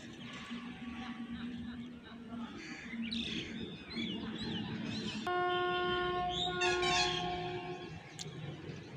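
An express train at Berhampur railway station sounds a long, steady horn blast of about two and a half seconds midway, over a low rumble, while birds chirp nearby before and after it.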